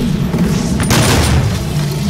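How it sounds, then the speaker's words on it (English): The super shotgun in the virtual-reality game Doom VFR fires a loud, punchy blast followed closely by a second, both sitting over a heavy, constant low rumble. "I forgot I upgraded my super shotgun. Basically, if I do this, I can shoot 2 times."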